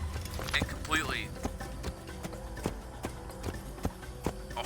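Steady, rhythmic clip-clop of horse hooves at a trot in the video game Assassin's Creed II, with a brief whinny-like sound early, people talking over it.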